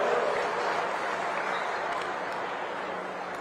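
An audience at a public ceremony with the Chief Minister in Pinjore claps steadily at a moderate level, a dense wash of applause that fades slightly over a few seconds.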